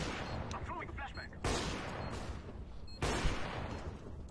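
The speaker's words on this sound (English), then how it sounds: "I'm throwing a flashbang." A flashbang grenade goes off in Counter-Strike, two sharp bursts about a second and a half apart, each a loud broadband crack that rings out and decays, with faint gunfire earlier.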